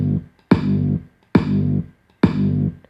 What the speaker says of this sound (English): These are the drums or the kicks that you hear